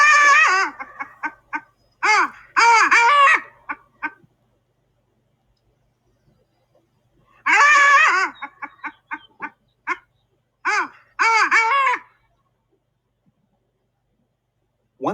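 Long-tailed ducks give bursts of loud, nasal, yodelling calls close by, several rapid phrases separated by silent pauses.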